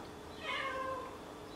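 A single soft meow from a cat, fairly close, rising then falling over about a second against a quiet background.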